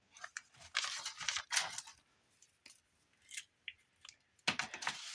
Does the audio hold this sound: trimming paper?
yes